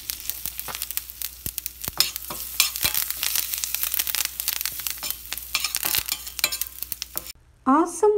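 Curry leaves and urad dal crackle and sizzle steadily in hot tempering oil with hing for a mango malli chutney, a dense close frying hiss dotted with sharp pops, ending in a brief scrape.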